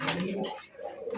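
Large fancy racer pigeons cooing nearby, a short run of low throaty coos broken by a brief pause, no talk.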